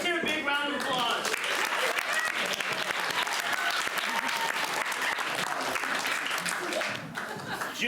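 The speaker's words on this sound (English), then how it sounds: "Let's hear a big round of applause." Loud, continuous clapping from a theater audience at a children's adventure serial show, holding strong throughout before easing slightly at the end, with some voices mixed into the crowd noise.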